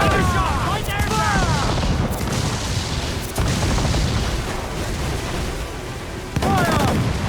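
Ship cannons fire in a naval battle in Assassin's Creed IV Black Flag: several loud booming blasts spaced a second or more apart over constant sea-battle noise, with shouting voices in between.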